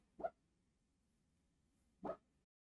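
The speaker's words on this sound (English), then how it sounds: "He's barking in his sleep." Two short, muffled woofs about two seconds apart, soft and close, like a dog barking quietly in its sleep.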